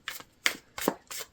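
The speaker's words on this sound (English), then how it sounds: "as I'm shuffling out your cards," Four quick riffling bursts of tarot cards being shuffled, evenly spaced and close by, crisp papery rattles with short pauses between them.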